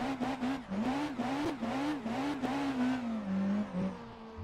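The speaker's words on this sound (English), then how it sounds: "Let's burn those rear tyres." A P2 race car in rFactor 2 at Interlagos revs hard in repeated rising bursts, its engine note climbing and dropping rhythmically before settling into a steadier drone, loud and close.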